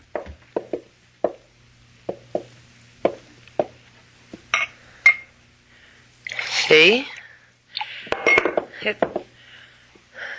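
In a radio drama, a water pitcher and glass on a table give a series of sharp knocks and clinks, followed by a pouring, splashing sound, with a brief spoken word.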